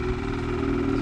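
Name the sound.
2019 Ski-Doo Blizzard 600 two-stroke snowmobile engine idling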